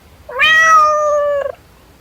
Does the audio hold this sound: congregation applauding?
no